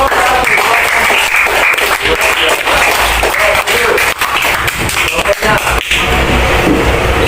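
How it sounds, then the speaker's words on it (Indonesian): A group of teachers in a coaching session claps for a presenter stepping forward, with loud, close applause and sharp individual claps running continuously, a voice occasionally heard amid it. "beri tepuk tangan untuk"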